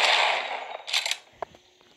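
Sniper rifle shots in the mobile game Rocket Royale, a few sharp synthetic cracks with a noisy burst early on, then a couple of short pops trailing off, no talk.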